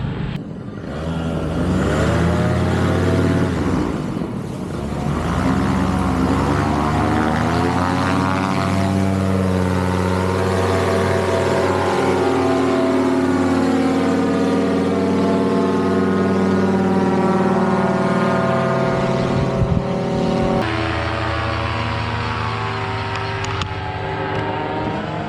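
A paramotor engine roars loud and close through takeoff and into flight over Colombia, a steady propeller drone with shifting pitch and no voices.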